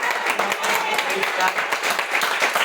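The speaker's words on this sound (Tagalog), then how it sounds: "Palakpak po sa nakaintindi" A church congregation applauds during a sermon with a burst of scattered hand clapping, and voices are mixed in underneath.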